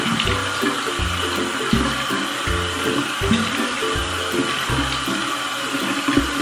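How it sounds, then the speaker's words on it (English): Tap water runs steadily into a bathroom sink while a face brush is held under the stream to wet it, a continuous close splashing flow with no talking. "So I take my brush and I wet it, put it under the water."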